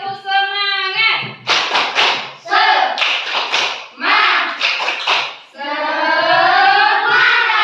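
Schoolchildren in a classroom clap the 'tepuk semangat' spirit clap, a run of sharp, rhythmic group claps mixed with chanted voices. A teacher's voice speaks just before and after.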